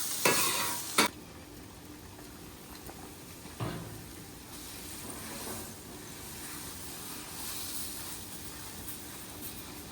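Fresh water steams and sizzles on a hot griddle being cleaned section by section, with sharp bursts of hissing as water hits the metal, then a softer continuous fry and patter close by.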